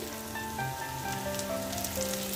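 Yardlong beans frying in a pan with salt and turmeric, giving a steady, close crackling sizzle that carries on without pause and with no voices.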